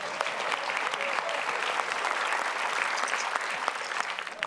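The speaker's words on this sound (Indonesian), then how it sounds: "kita beri tepuk tangan untuk Alma" A studio audience on an Indonesian quiz show applauds for a contestant named Alma: dense, continuous clapping with crisp individual claps, fairly loud and steady from start to finish.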